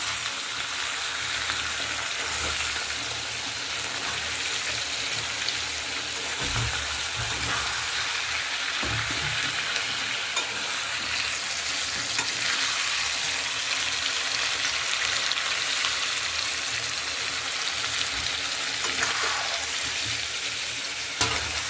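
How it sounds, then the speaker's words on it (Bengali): Spices and potatoes being sautéed with a splash of water for aloo dum, a dense continuous sizzle and frying hiss running throughout with occasional stirring knocks, no voices. "এবার এটা কষানো হচ্ছে।"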